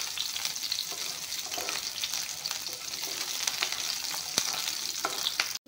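Garlic and onion frying in a pan, a dense, even crackling sizzle holding steady for several seconds, close and alone, ending in a sudden cutoff.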